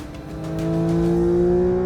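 A 2023 Porsche 911 GT3 RS (992) engine revs hard toward 9,000 rpm, a loud, steady rising howl that builds and holds close by, with no talk over it.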